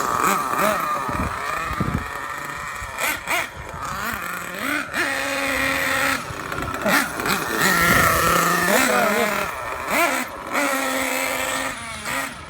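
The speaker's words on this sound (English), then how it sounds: "Oh man, that's full throttle." A DYN.28 nitro RC engine screams at full throttle while being broken in, its high-pitched whine rising and dipping in waves over about twelve seconds, close and loud, with occasional excited voices over it.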